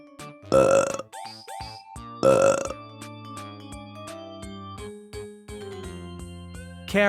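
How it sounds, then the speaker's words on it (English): Two loud, deep burps stand out early, one after the other, with quiet background music running underneath and continuing after them. "Burp."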